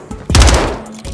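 An SMG fires in Modern Warfare 3 ranked play, a short loud burst of rapid shots with a sharp crack and booming low end, followed by a second burst starting at the end.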